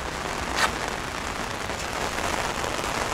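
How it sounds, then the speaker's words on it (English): Heavy rain pouring down on New Year's Eve, a dense, steady hiss of drops striking surfaces close by, loud and unbroken for a few seconds. "it sounds like the rain just kicked it up a notch or so"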